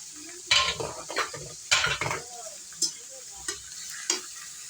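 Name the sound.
sautéing chicken with leftover onion in a pan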